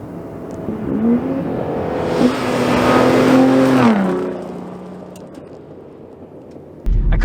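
A 2022 off-road pickup truck, such as a Chevy Silverado ZR2, Ram TRX or Ford Raptor, accelerates on a trail, its engine swelling to a loud roar before quick shifts drop the pitch and it fades, no talking.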